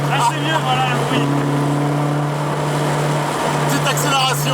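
A car engine revs under acceleration, holding a steady, loud droning tone with a second higher tone joining partway through, while voices talk over it.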